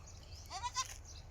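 A newborn goat kid gives a pair of short, thin bleats close by, quite faint, over a low steady background hum with no talking.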